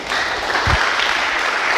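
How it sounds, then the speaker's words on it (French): An audience at a French academic conference debate claps to welcome speakers to the stage, a dense, steady wash of applause filling the short moment. "Sous vos applaudissements, s'il vous plaît."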